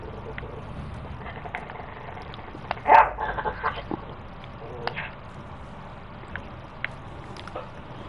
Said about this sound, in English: Are you barking?